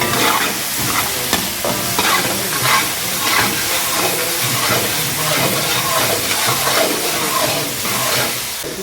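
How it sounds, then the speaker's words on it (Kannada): Green chillies and ginger garlic paste fry in a pan with a loud, steady close-up sizzle and spatter, broken by rhythmic stirring scrapes throughout. "ಸ್ವಲ್ಪ ಇಲ್ಲೇ ಫ್ರೈ ಆಗಬೇಕು"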